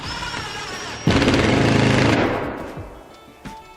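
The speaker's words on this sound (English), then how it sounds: "just put a screw through each hole and then pull it right back out" A screw driven into a pre-drilled hole while mounting a stone mantel, a loud sustained power-drill whir lasting about a second and a half, then winding down, with brief clicks after.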